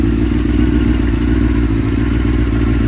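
A Honda CBR954RR Fireblade engine idling loud and close through an Akrapovic exhaust with the noise reducer removed, a steady deep burbling thrum with a fast rhythmic pulse and no talking.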